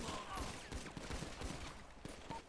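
Gunfire rattles through a GTA roleplay game session, a rapid volley of shots that sounds distant and faint under steady background noise.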